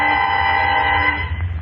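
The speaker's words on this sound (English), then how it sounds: "Foghorns wailed their ominous calls into the night." Radio-drama foghorn effect on a cold, densely foggy night: a loud, sustained low droning blast holds steady, then fades out after about a second, with no voices over it.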